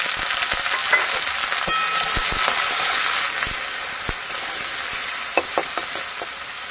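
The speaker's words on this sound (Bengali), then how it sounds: "বন্ধুরা পেঁয়াজটাকে একটু নাড়াচাড়া করে হালকা মতো ভেজে নিচ্ছি।" Chopped onions frying in hot oil after a kalonji tempering, a loud continuous sizzle broken by repeated sharp scrapes and taps of a spatula stirring the pan.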